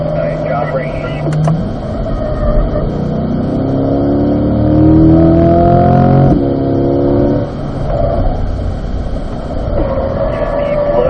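A Chevrolet Corvette accelerates on a race track, its engine note climbing steadily to a loud peak before an upshift, then pulling again, heard from the cabin with a driving instructor talking over it.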